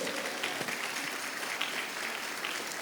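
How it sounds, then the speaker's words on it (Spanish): A church congregation at an Easter Sunday service applauds in a dense, continuous wash of clapping that fills the room, steady in level from start to finish, with no clear talk over it. "denle un aplauso al Señor"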